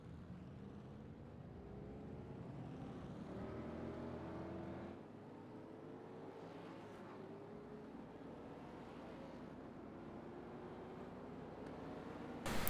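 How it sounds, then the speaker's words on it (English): Stock car engines in a racing league's 1987 Cup Series race, as the pace cars start to roll: a continuous engine drone with rising whine tones, steady and moderately distant, with no talk over it. "You see the pace cars just started to roll."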